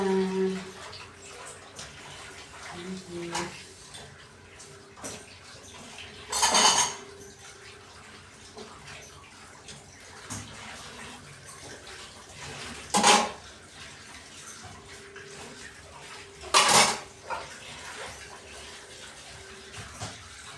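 Dishes and plates being washed at a sink, with low running water and occasional sharp clinks and clatters of crockery and cutlery, three louder bursts standing out from the steady background.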